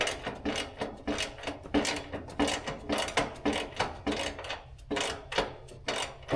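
A wrench works a nut on a radiator and oil cooler housing, giving a quick series of close ratcheting clicks in short repeated bursts with no speech over them.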